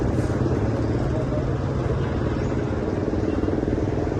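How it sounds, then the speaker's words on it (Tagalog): A motorcycle passes on a street in Regalado, Quezon City, near a hospital, its engine a continuous loud drone blended with dense road noise and no talk. "May motor dito, isa pa."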